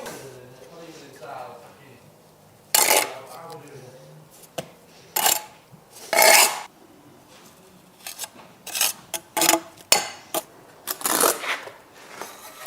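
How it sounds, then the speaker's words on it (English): A trowel scrapes forward across a surface, collecting excess material in several loud, gritty rasping strokes of varying length, interspersed with quieter passages where someone talks. "I'm scraping forward here, collecting the excess."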